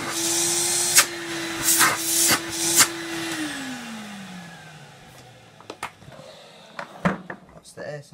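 A 1994 Numatic vacuum cleaner with a cracked part and leaking air. A steady motor hum sits under sharp clicks and clunks, then the pitch slides down as it winds off, leaving scattered knocks. A voice speaks briefly.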